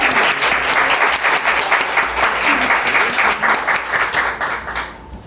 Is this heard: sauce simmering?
no